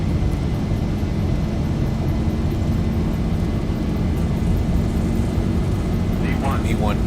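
Boeing 737 engines at takeoff power in an X-Plane 11 flight simulator, a loud, steady, continuous jet roar that fills the whole stretch without letting up, with faint voices near the end.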